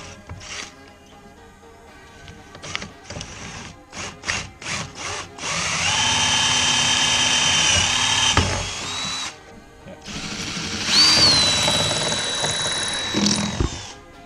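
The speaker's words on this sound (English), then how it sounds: "here we go with a small drill bit for the pilot." Power drill with a small pilot bit boring a hole in a truck, opening with short trigger bursts, then a sustained whirring drive that stops briefly and resumes, loud and close.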